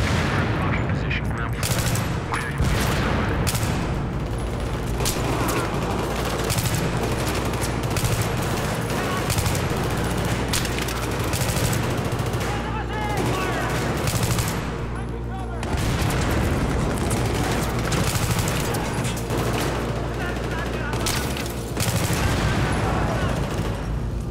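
Relentless Battlefield 3 gunfire fills a dense combat soundscape, with rapid automatic bursts, heavy booms and explosions layered almost without pause, loud and close, while a voice talks underneath at times.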